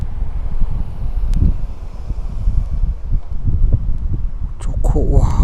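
Strong wind buffets the microphone on a mountaintop in Taebaek, a loud, steady gusting rumble throughout with a few brief high chirps near the end.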